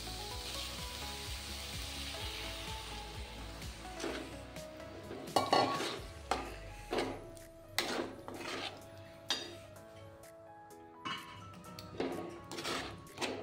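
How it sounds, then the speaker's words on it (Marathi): A besan and coriander mixture being stirred in a pan on a medium flame, a spoon scraping and clinking against the metal in repeated strokes over a faint sizzle, fairly quiet and close. "आता हे मिश्रण आपल्याला मीडियम फ्लेमवर परतवत राहायचं आहे."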